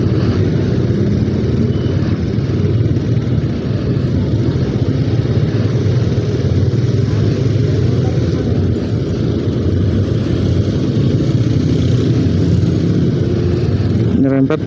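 Yamaha R3 motorcycle riding along a road between Malang and Kepanjen, a steady continuous engine and road roar throughout, loud and close, with wind noise.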